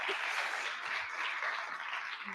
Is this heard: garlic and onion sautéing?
no